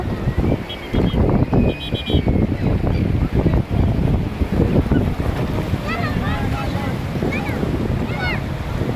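Big sea waves breaking at the beach in Bakkhali, with continuous surf rush and wind buffeting the microphone, loud and close, mixed with voices and shouts of people playing in the water.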